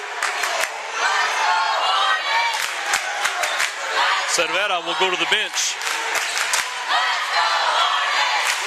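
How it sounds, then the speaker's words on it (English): Spectators cheer and roar at a high school basketball game in Morton, Texas, a loud sustained crowd din with whoops and shouts, heard under a play-by-play commentator's voice throughout. "The crowd is rocking here in Morton, Texas. I'm sure you can hear it over the broadcast."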